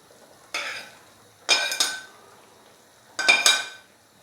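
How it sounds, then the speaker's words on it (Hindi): Finely chopped tomatoes tipped into a pot of beef karahi land in three short clattering bursts. Each one brings a quick splatter and the clink of a utensil against the pot, close by and alone, with brief pauses between. "तो अभी हम इसके अंदर डाल देंगे टमाटर।"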